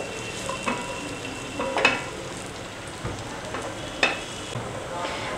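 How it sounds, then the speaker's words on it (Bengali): Ingredients for sheer khurma, an Eid sweet, fry in a pan with a soft, steady sizzle. A few sharper stirring scrapes stand out on top, and nobody speaks. "এগুলো ভাজতে ভাজতে এগুলোর কালারটা চেঞ্জ হয়ে আসবে"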